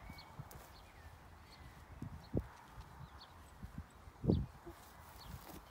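A horse walks out on a trail ride, its hooves landing as a few soft, scattered thuds against a quiet outdoor background.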